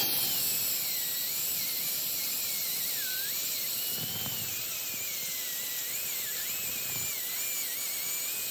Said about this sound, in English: you might have to go in with a die grinder and ream it out a little bit